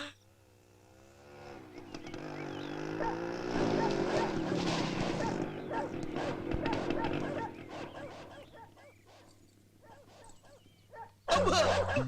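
Angry dogs bark in a Tamil film scene, bursts of yapping and growling mixed under loud dialogue, music and background commotion, rising and falling in intensity.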